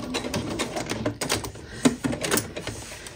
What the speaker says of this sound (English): I'm just going to stitch past it and then do a back stitch.